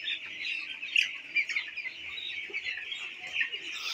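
A flock of 16-day-old broiler chicks peeps and clucks continuously in a winter poultry shed, their chirping high and busy throughout, without talk.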